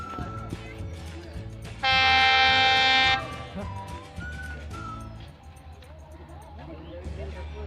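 A train on the Katihar–Siliguri route blasts a loud, sustained horn for about a second as it passes, over the ongoing rumble of the train, with people talking nearby.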